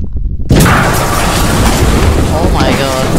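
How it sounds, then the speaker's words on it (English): A BTR-80 armored vehicle exploding in Squad: after a brief quiet moment, a sudden, very loud close blast erupts and rolls on as a heavy, roaring rumble with crackling debris. "the BTR fucking blew up"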